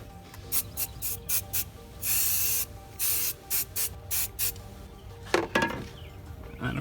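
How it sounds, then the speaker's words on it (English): Short bursts of detailer sprayed onto plastic in a BMW engine bay, a rapid series of sharp hissing spritzes, several quick and a couple longer, close and loud with no talking. "So after you spray a little bit on the top here"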